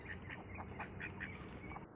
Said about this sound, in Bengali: হাঁসগুলো কি সুন্দর লাগছে।